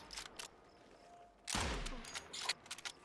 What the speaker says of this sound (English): I'm just shooting at this guy over here.